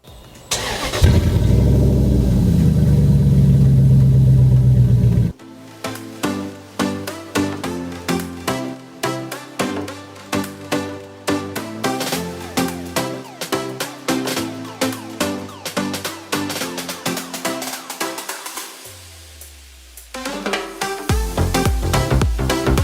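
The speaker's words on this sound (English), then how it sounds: "So I'm gonna give it a start up right now, nice little cold start" A Dodge Dakota pickup engine cranks and fires on a cold start, then settles into a loud, close idle, with other rhythmic sounds layered over it before the rumble returns at the end.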